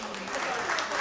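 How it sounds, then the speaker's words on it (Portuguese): A chamber of the Guinea-Bissau national assembly breaks into steady clapping from many hands, a dense, even patter that continues through the whole short moment, close and fairly loud. "Vou tocar palmas, vou tocar palmas."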